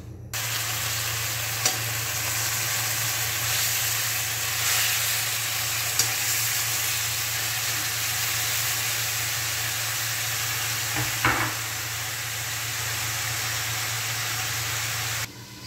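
Adobo fries in a pan with a continuous sizzling hiss, broken by a few louder crackles and stirring clatters, close and steady throughout with no talking.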